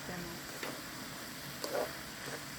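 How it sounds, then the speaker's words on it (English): Vegetables and sausages cook in a pan with a faint, steady sizzle and a few soft stirring scrapes, quiet and close throughout. "now when you see that your veggies are already boiling with your sausages"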